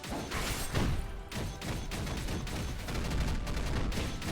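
A giant fist attack in Skul The Hero Slayer pounds out a loud, continuous run of heavy impacts and crashing blasts, dense and close, with brief louder hits along the way.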